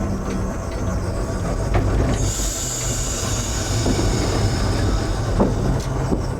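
A Vale of Rheidol Railway train near Aberystwyth arrives at a station with a passing loop, rumbling steadily up close with a continuous rolling roar and a faint high squeal of wheels, no voices.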